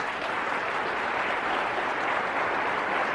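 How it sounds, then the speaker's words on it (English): A large audience at a talk breaks into sustained, even applause, a dense wash of clapping close and loud throughout with no voices rising above it. "you can applaud."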